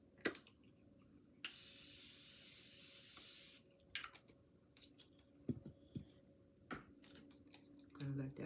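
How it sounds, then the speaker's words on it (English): A face mist is sprayed onto a face in one steady hiss lasting about two seconds, followed by quiet tapping and soft handling noises close by. "I'm gonna spray my face again"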